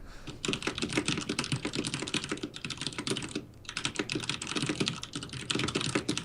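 Rapid, steady typing on a computer keyboard, close and clear, with dense bursts of key clicks and a brief pause midway, no voices over it.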